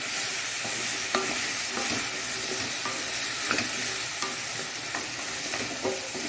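Chickpeas and sweet potato stirred into a sizzling tempering in a pan, steady frying hiss with intermittent scraping stir strokes throughout, close and moderately loud, no voices.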